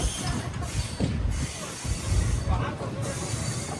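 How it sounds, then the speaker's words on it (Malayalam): A passenger train pulls into Nagore railway station after a run from Thiruvarur, a low rumbling roll of wheels with faint squeals and hiss, fluctuating in level as the carriages slow alongside the platform. "ട്രെയിൻ ഇതാ നാഗൂർ റെയിൽവേ സ്റ്റേഷനിലേക്ക് എത്തുകയാണ്"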